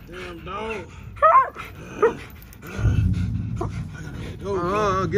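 A Dogo Argentino barks and yelps during a bite exercise, sharp close outbursts mixed with whining, while a person talks and encourages the dog.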